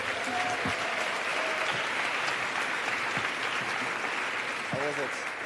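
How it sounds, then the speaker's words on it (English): A closing ceremony crowd gives steady, sustained applause for competition finalists, a continuous wash of clapping at moderate distance, with faint voices surfacing briefly beneath it. "Let's give all 13 finalists a big round of applause."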